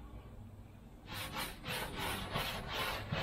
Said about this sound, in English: Got to get in a scrub, scrub,